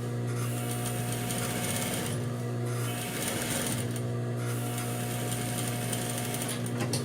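A sewing machine runs a continuous safety seam along the edge of fabric, a steady close mechanical whir with brief pauses and changes in pace.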